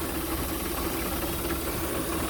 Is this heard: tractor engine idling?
yes